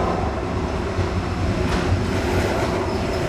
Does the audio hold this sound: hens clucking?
no